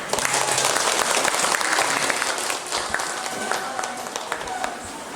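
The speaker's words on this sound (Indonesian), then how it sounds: "Untuk itu kita beri tepuk tangan." Audience applause for a group that has just finished presenting a discussion, a steady wash of clapping from a room of people, fairly loud, with talking mixed in beneath it.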